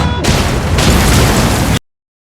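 A loud, roaring film explosion bursts in suddenly and rumbles for about a second and a half before cutting abruptly to silence.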